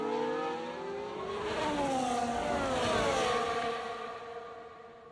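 Formula 1 cars in a British GP racing game session, engines whining and revving as they pass, swelling from moderate to loud and fading, with no talk over them.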